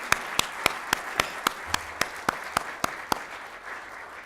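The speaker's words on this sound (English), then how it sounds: "How about a round of applause?" Audience applause at a NASDAQ closing bell ceremony in Times Square, a steady crowd patter under sharp, evenly spaced claps that fade as it ends.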